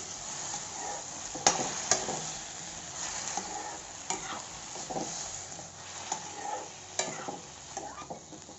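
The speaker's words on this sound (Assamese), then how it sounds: "আনাৰসখিনি দি এনেধৰণে লৰাই দিম।" Pineapple pieces fry in a pan, a gentle close sizzle broken by repeated scraping and clinking stirs of a spoon against the pan, with no speech.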